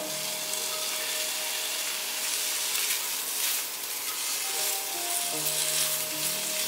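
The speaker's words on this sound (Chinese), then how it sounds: "大约炒了2-3分钟，把杏鲍菇放进来" Shiitake and king oyster mushrooms stir-frying in a hot pan, a steady close sizzle with faint scraping of stirring throughout, no voices.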